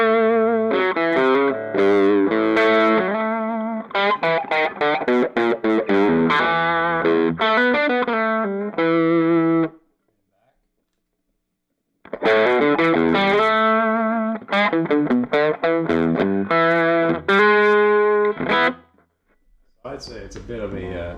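Overdriven electric guitar through a Zenkudo overdrive pedal on its Dumble setting, playing phrases that stop for a gap of silence and then start again, loud and close with a distorted tone.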